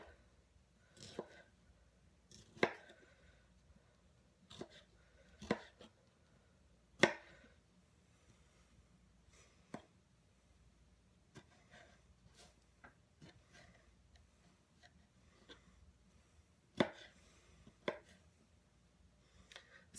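Vegetables are roughly chopped with a knife on a cutting board as a chicken salad is prepared, giving sharp, irregular thuds spaced a second or two apart against a quiet room.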